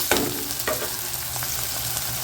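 Onions sautéing in a pan for a Tamil broccoli kurma give a steady close frying sizzle, with two brief stirring scrapes near the start over continuous hiss.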